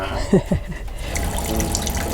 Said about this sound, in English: That's the fresh water coming here.